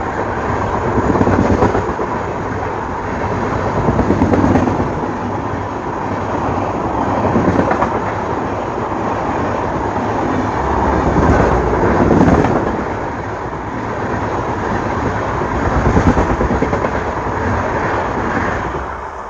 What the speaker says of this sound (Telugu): సో ఇప్పుడైతే చూసినారు కదా మన ఇంటర్సిటీ అయితే ఎలా దంచుకుంటూ నరుక్కుంటూ అయితే వెళ్ళిందో